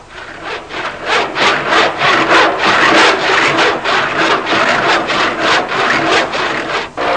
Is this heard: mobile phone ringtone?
no